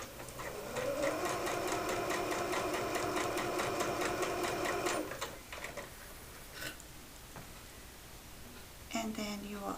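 A sewing machine stitches a 3/8-inch seam down one side of tote bag fabric, with a rising whir into rapid, even needle ticking for about four seconds, then stopping, followed by a brief second burst.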